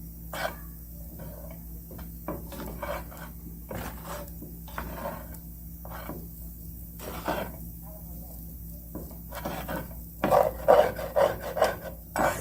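Spatula rasps repeatedly against the bottom of a pan of chickpea and chia seed fried rice with fresh veggies, irregular scraping strokes, louder near the end, over a low kitchen hum.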